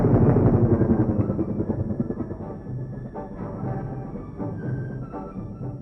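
Attack helicopters in flight during a battle, recorded for a 1970 military training film, give a steady, loud rotor drone that slowly fades a little, with a rough pulsing texture and no voices.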